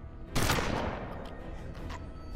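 A shotgun blast from the video game Hard West, a single loud boom at the start that rolls off into a long rumbling decay with game ambience behind it.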